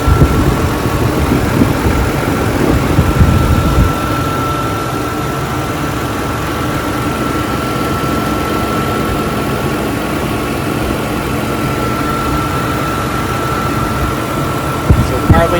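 A Lexus 1MZ-FE V6 idles steadily and close by, a continuous low hum with a faint high whine running beneath it, with a brief louder burst at the start and end.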